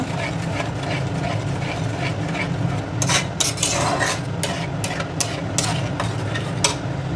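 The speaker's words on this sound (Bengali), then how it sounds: "এবার ভালোভাবে একটু নেড়ে নেব।" Prawn biryani ingredients are stirred in a pot with a metal spoon, giving steady scraping clinks and several sharper knocks against the pot, set over a constant low hum.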